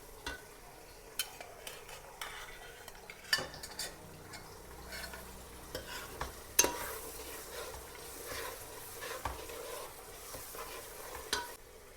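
Cooked mutton is added to a biryani pot and stirred, producing repeated scraping and clinking of a spoon against the pot over a soft sizzle, in irregular strokes close by.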